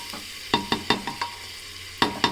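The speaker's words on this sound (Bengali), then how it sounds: "চালটা দেওয়ার পরে আরও এক মিনিট একটু নেড়ে চেড়ে ভেজে নেবেন" Parboiled rice for khichuri is stirred and fried in a kadai, making about seven distinct scraping strokes of a spoon over a faint sizzle, with a short pause before the last two.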